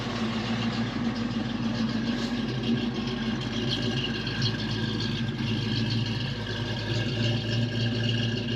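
A 1990 Ford Mustang GT sits idling with a steady, even engine hum that holds a constant low rumble throughout, with no revving and no talk.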